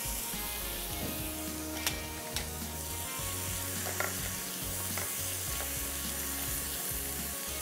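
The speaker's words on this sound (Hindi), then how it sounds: "इस सॉस के लिए हमें चाहिए चॉप्ड अनियन। इसको हमने सिर्फ सौते करना है" Chopped onion sautéing gently in a pan for a tarragon chicken sauce, a steady low sizzle running throughout with a few faint clicks of utensils, no voices.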